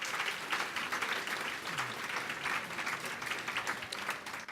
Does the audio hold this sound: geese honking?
no